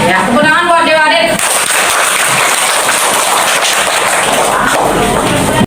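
A school classroom group gives a round of applause for Dewa Adik, dense continuous clapping that swells in right after a brief spoken line and holds loudly to the end.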